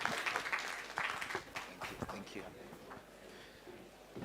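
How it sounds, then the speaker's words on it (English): An audience at a regional IGAD conference applauds, a soft, steady patter of many hands heard at a distance with a voice talking over it. "another round of applause for him"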